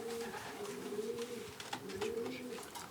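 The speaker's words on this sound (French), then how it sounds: "Des pigeons qui ont 4-5 mois." Young racing pigeons, four to five months old, coo in a loft: soft, rolling low coos repeating and overlapping close by, with light shuffling noises.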